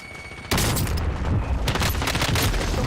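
A frag grenade bursts in a shooter video game, a loud sudden blast followed by a dense stretch of rattling gunfire and explosive crackle that continues to the end.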